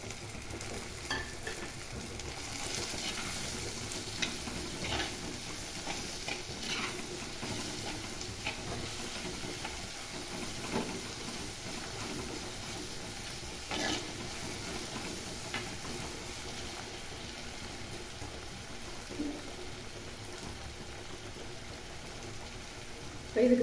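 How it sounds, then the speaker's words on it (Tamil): Onions and tomatoes fry in a pan for a stuffed okra masala, a steady soft sizzle broken by frequent scraping stirs, close and continuous with no talk. "வெங்காயம் ஓரளவு கலர் மாதிரி நல்லா வதங்கிடுச்சு. இப்போ நம்ம எடுத்து வச்சுருக்கிற தக்காளியை போட்டுடலாம்."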